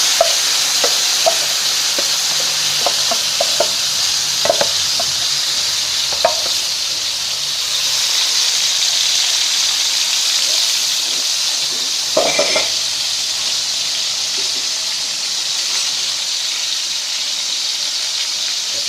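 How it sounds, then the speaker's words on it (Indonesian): Chopped ingredients for Pakpak eggplant sambal sizzle steadily in a little oil in a pan, a loud continuous frying hiss with occasional stirring scrapes and clinks, close up and with no talking. "sini saya akan goreng supaya aromanya keluar"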